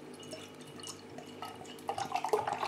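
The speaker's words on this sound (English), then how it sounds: "Giving this one a good rigorous pour." Odell Cutthroat Porter beer poured vigorously into a glass, a soft liquid splash and drip building into a louder, fizzing fill toward the end, close by with no talk.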